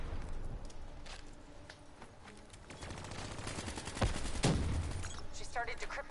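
Rapid turret gunfire rattles continuously in the Call of Duty Black Ops 3 campaign, dense overlapping shots with a louder burst and impact near the middle, mixed with game effects.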